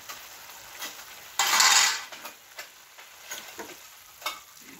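Crushed green chillies frying in hot oil in a home kitchen, with a loud sizzling burst near the start, then softer sizzling broken by the scrape and clink of stirring, close by with no talking.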